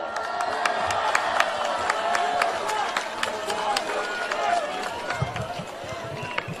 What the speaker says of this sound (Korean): 전희경 대변인 여러분 큰 박수로 맞아주십시오